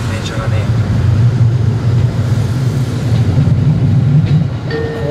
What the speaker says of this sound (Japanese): 道路一緒に走ってる電車がね、